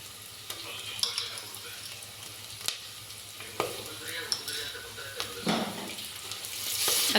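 Homemade ginger garlic paste fries with onions in a pan for tomato bath, a steady soft sizzle broken by sharp scrapes and taps of a stirring spoon against the pan.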